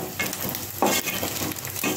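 Washed prawns sizzle and fry steadily in a hot pan, a loud continuous crackle with occasional stirring bursts and no talking.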